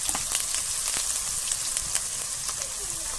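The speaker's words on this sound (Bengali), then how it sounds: "সবগুলো মশলা কষিয়ে নেব" Cumin, garlic, ginger and dried red chillies sautéing in a pan for a papaya paneer dish, a steady close sizzle with scattered sharp crackles and pops throughout, no voices.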